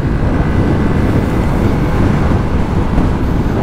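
Strong north wind roars steadily outdoors near the Marmara Sea in Çorlu, Turkey, a dense, constant low rumble buffeting the microphone with no pauses, loud and close throughout.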